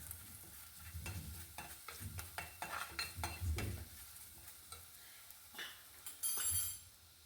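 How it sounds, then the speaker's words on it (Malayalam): Crushed garlic, ginger and green chili sautéing in hot oil while being stirred, with a steady sizzle, repeated scraping strokes of a utensil and occasional clinks against the pan, close and fairly quiet. "എണ്ണ ചൂടായി വന്നിട്ടുണ്ട്. അതിലേക്ക് വെളുത്തുള്ളി, ഇഞ്ചിയും പച്ചമുളകും കൂടി ചതച്ച് വെച്ചിരിക്കുന്നത് ഇട്ട് വഴറ്റിയെടുക്കാം ആദ്യമായിട്ട്."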